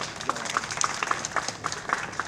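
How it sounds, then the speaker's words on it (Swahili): A crowd at an outdoor ceremony claps in a brief round of applause, with scattered individual claps standing out at a moderate distance. "Naomba tujipigie tena makofi mengi sana"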